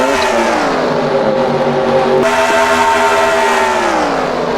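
Race cars roaring around Daytona in a Daytona 500 racing game, a steady loud engine drone with shifting pitch as a car sweeps past, abruptly changing partway through, no voices.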